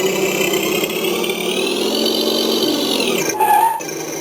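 Simulated bus or truck engine from a remote-control engine sound effect unit, a steady loud electronic drone that revs upward and holds, then drops sharply near the end with a brief hiss-like burst; no talking.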